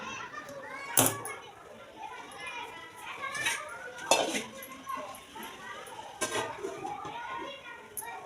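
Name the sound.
children playing downstairs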